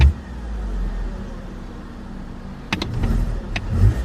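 A BMW E46 M3 idles roughly, its engine either misfiring or running rich, a low uneven rumble close by with a few sharp knocks and a brief surge toward the end.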